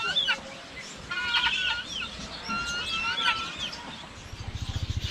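A mother hen and chicks clucking and chattering nearby, several birds calling in short bursts over a rustling background, ending with rapid rhythmic pulsing.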